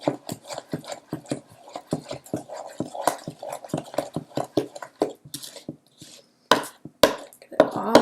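Thick flour mixture stirred with a spoon in a bowl, giving a steady series of close, rhythmic scraping and thudding strokes that pause briefly near the end before a few louder knocks.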